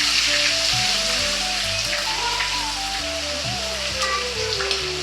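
Chicken frying in foaming peanut oil, a steady, close broadband sizzle running throughout beneath a melody of background music.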